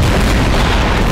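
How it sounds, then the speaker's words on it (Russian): A loud, sustained explosion booms from a bomb in the video game Garry's Mod, a dense rumbling blast that fills the whole moment with no break. "Эй, бомба, взрывайся."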